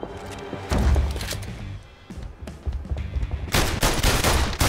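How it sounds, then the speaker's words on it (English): Gunfire in the PlayStation VR Worlds game during a diamond heist, with repeated loud bursts of shots and heavy thuds that swell toward the end, with no talk over them. "You're going to have to shoot your way out."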